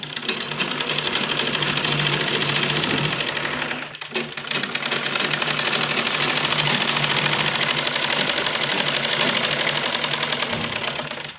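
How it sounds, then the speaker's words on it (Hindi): A sewing machine runs steadily for about eleven seconds, stitching a palazzo pant seam with a half-inch allowance, its rapid mechanical chatter pausing briefly near the four-second mark before resuming. "दोनों पीस इस तरह मिलाते हुए आधा आधा इंच की हम सिलाई लेते हुए इसमें सिलाई लगाएंगे"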